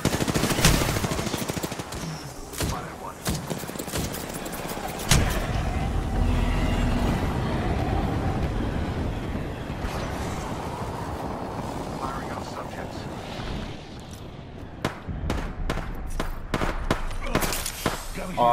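Rapid bursts of video game gunfire crackle loud and close, with sharp repeated shots clustering near the start and end over a steady engine-like drone.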